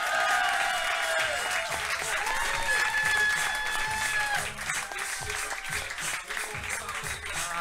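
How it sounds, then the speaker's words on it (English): Comedy roast crowd applauding and cheering for the guest of honor at a stand-up show celebrating a 40th birthday; sustained, dense clapping with whoops and shouts, steady and loud throughout with no clear speech. "Guys, nice round of applause for Brian"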